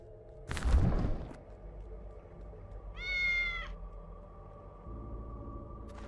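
A cat meows in the cyberpunk point-and-click game Tales of the Neon Sea: a short, clear, rising-falling meow sounds once after a loud thump, over a soft game ambience hum.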